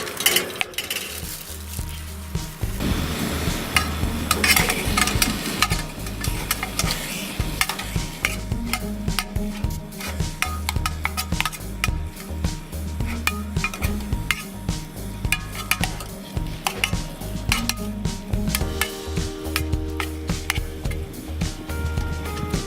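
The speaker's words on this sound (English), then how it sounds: "sizzling meat." Ground beef sizzles as it browns in a canteen cup over a campfire while a utensil scrapes and stirs it repeatedly, close up, with steady frying noise and occasional metallic clinks.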